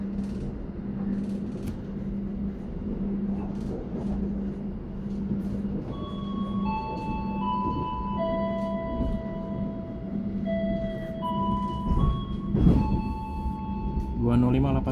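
A JR 205 KRL electric commuter train runs alongside near Bekasi, its steady rolling rumble joined midway by rising and falling tonal motor whines, with a louder clatter toward the end.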